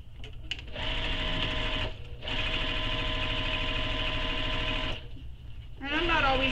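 Sewing machine stitching and backstitching a pocket on a crossbody bag, close whirring bursts with short pauses between runs, the longest lasting about three seconds.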